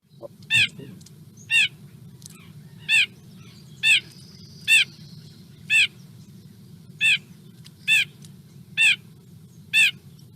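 A white-breasted nuthatch gives a series of nasal, repeated calls, about a dozen evenly spaced notes, clear and fairly close over a low steady hum.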